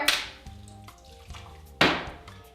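Cherry vodka, vanilla vodka and pineapple juice poured for a shot, heard as two short, close splashing gushes of liquid, each fading quickly, with no talking.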